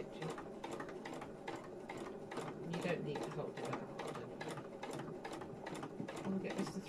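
A sewing machine stitches fabric in a regular, close mechanical chatter at a brisk even pace, with quiet voices underneath.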